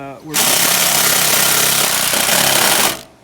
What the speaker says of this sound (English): we're putting the screws back in the cover